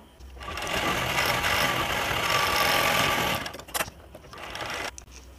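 A sewing machine stitching the belt part of a silk blouse runs in one loud continuous whir for about three seconds, then gives a few short stop-start bursts nearby.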